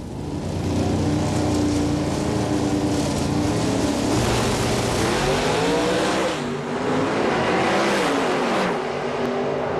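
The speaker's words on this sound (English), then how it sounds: "Good drag race. Both cars seeming to groove all the way down the racetrack." Two Pro Stock drag race cars run side by side down the drag strip in a 2001 IHRA Richmond semifinal, engines roaring loudly and continuously, with shifting pitch through the gears for the whole pass.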